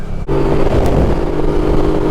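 A motorcycle with a stock exhaust revs loud and close on a ride across the Humber Bridge, a steady engine drone that kicks in abruptly after a brief dip and holds a sustained tone.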